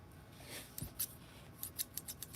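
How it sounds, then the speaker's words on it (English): Quiet, quick snips of scissors, several in a row, close up against a faint background hiss. "Kids, don't play with scissors."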